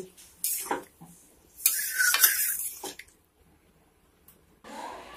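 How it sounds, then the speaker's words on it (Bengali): A spoon scrapes and clatters against a pan while pumpkin curry is stirred after water is added, several short bursts of stirring separated by quiet pauses. "এবারে এর মধ্যে দিয়ে দিচ্ছি জল আবারও নেড়ে চেড়ে মিশিয়ে নিতে হবে"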